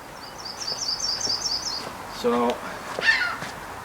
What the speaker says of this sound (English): we got seagulls bawling, we got crows and birds squawking